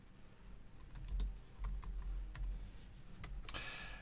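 Steady computer keyboard typing, a rapid run of soft clicks and clacks heard close and faint against a low background hum, with no one speaking.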